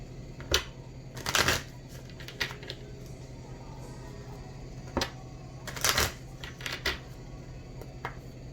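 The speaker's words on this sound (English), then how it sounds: "I'm going to pull a few Angel Romance cards, see what we get about your connection with this person." A deck of Angel Romance oracle cards is shuffled and pulled, with scattered quick riffling bursts and light card flicks over a steady low background hum, close and fairly quiet.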